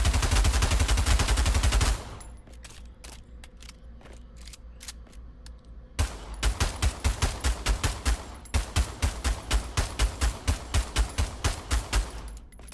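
Guns in the VR shooter Pavlov fire loudly: a dense burst opens, then after a pause comes a steady, rapid string of fully automatic shots.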